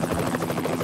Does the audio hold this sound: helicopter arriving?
yes